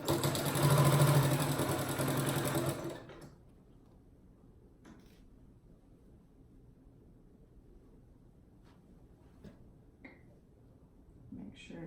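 A sewing machine stitches a 1/2 inch pillowcase seam, its motor running loud and steady for about three seconds before stopping. A quiet room follows with only faint scattered clicks.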